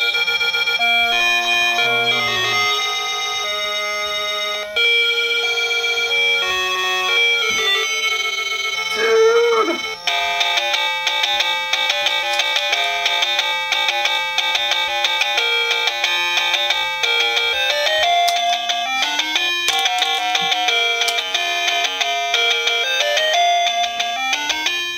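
A battery-powered Zelda Hallmark Keepsake ornament plays a bright electronic chiptune melody, loud and close, running steadily on its own with no talking.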